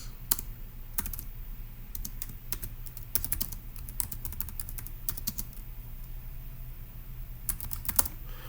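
Computer keyboard typing at close range, irregular bursts of clicking keystrokes with brief pauses, steady and fairly loud with no talking.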